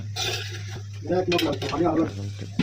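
A ladle scrapes and clinks around a cooking pot while khepcha is stirred, several uneven close strokes over a steady low hum, with a person talking throughout.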